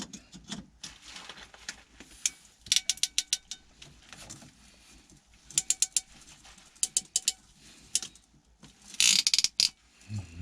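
A ratcheting crimp tool cinches a PEX clamp during a plumbing repair, giving several bursts of sharp, close metallic clicks separated by pauses, with a final louder cluster near the end.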